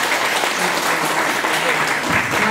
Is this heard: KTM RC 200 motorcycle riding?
no